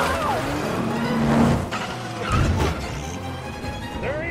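A car and motorcycle chase in a movie, with engines roaring and revving close by, a crash-like smash, and passing vehicle sweeps in a busy, continuous mix.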